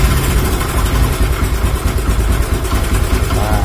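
A Demak Evo Z motorcycle engine idles loudly and close by after its ignition timing was lowered, a steady rapid chugging pulse with no talk.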